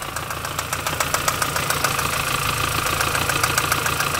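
MINI R50 engine with a loose timing chain and hydraulic tensioner fault, idling unevenly with a steady rapid ticking rattle over a close mechanical drone, continuous and moderately loud.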